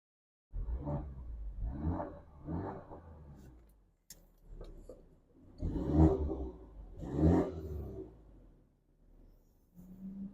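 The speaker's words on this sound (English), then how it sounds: "Give it a quick rev, put it in sport mode." A 2022 BMW 230i M-Sport engine revs in sport mode, several distinct throttle blips: three quick revs, a pause, then two fuller, louder revs, each rising and falling back toward idle.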